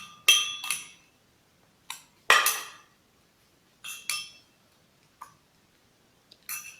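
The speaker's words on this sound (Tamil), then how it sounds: "ஆட் பண்ணி நல்லா கலக்கி விட்டுக்கணும்." A metal spoon stirring sugar into a mixture during a home cooking competition, giving sharp, bright clinks against the bowl in scattered bursts separated by silent pauses.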